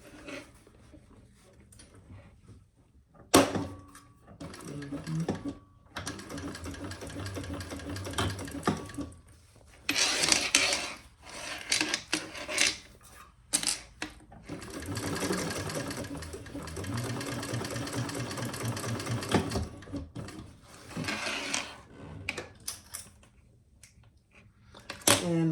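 A sewing machine stitches the seams of a Burcham crossbody bag in rapid, whirring bursts separated by short pauses, close and fairly loud, with a voice talking quietly between runs.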